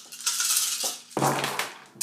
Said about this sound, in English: The dice!